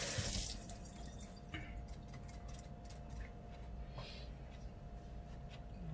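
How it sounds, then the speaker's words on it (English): Running tap water pours into a sink while hands are washed mid-cooking, a steady close hiss with small splashes and drips and no talking. "I gotta wash my hands"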